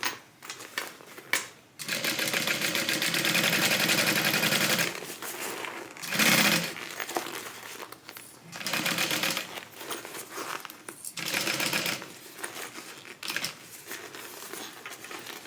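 A sewing machine stitches a tote bag lining in bursts: long stretches of rapid, buzzing needle chatter separated by short pauses, fairly close and with no voices.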